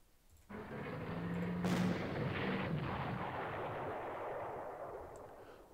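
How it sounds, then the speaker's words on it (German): Artillery fire in the World War II strategy game Panzer Corps: one loud, sharp boom followed by a long, rumbling roll that slowly fades, with no voices. "erst einmal wieder mit der Artillerie draufhauen. So oft wie es geht."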